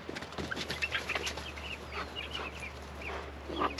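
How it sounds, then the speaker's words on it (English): Baby chickens gather at their water and food, giving off a scatter of soft, high peeps and chirps over a low steady background hum. "And we'll peek on the baby chickens."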